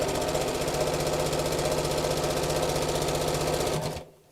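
Up close and loud, a sewing machine stitches across tote bag handles made from fat quarter fabric in one continuous fast rattling run, then stops abruptly just before the end.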